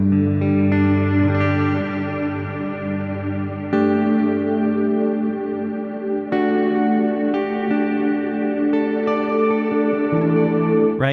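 Electric guitar run through a Fractal Audio VP4 amp-modeler pedal with a Plex delay and reverb, sustained chords ringing in a continuous, loud wash of echoing tails with a few fresh strums, no voices.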